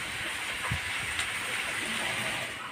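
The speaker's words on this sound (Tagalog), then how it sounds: "Malakas ang hangin guys." Strong wind blows steadily at an outdoor cooking fire, a continuous broad hiss and rush that holds at a fairly even level throughout with faint low rumbles underneath.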